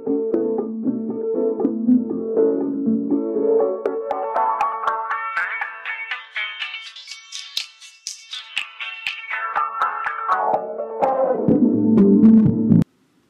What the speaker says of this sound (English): A band-pass filter, as the name implies, passes frequencies between its cutoff frequencies and attenuates those frequencies outside the range.